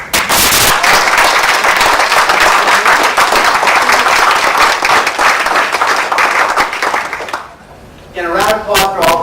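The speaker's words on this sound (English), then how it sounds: "a round of applause for all the speakers" Loud, sustained applause from an audience at a public speaking forum final as the top speaker is announced, a dense roar of clapping that holds for several seconds before fading, followed by a brief voice.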